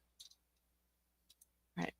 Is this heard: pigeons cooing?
no